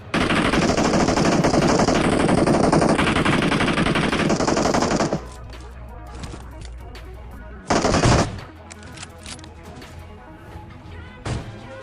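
Rapid gunfire from an AWM sniper rifle in PUBG, a loud dense burst running for about five seconds, followed by a single sharp shot and a few fainter distant cracks.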